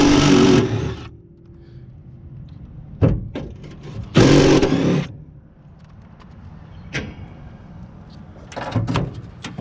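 Impact driver backing rusted screws out of HVAC equipment, delivering several loud short bursts of hammering whir separated by quieter pauses and handling clatter, close up.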